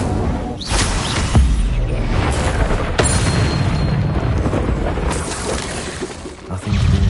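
An Incendio fire spell is cast in the video game Hogwarts Legacy, bringing a loud, sustained roar of bursting flame and impacts with sharp cracks and shattering hits spread across the clip, without talking.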